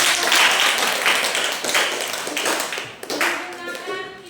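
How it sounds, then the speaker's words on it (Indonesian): A group of people at a training session on AI applications claps hands in a few loose bursts, close and fairly loud, fading into a voice speaking toward the end. "Oke, kita tepuk tangan."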